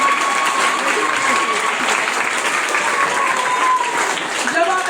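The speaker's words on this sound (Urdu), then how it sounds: "وہاں جو اساتذہ بیٹھے ہوئے ہیں ان کے لیے بھی تالیاں بجائیں" Steady applause from an audience at a school event with student performances, a loud, continuous clapping that holds for several seconds.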